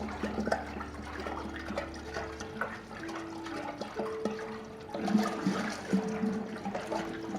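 Neem pesticide liquid being stirred in a container, giving a steady watery swirl and trickle with occasional knocks, moderately close and continuous without speech.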